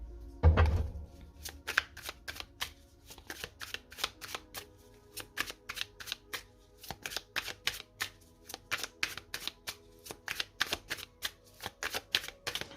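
Oracle cards being shuffled by hand during a reading, a close run of crisp riffling bursts that repeat in quick rhythm after an opening soft thump, with no voice.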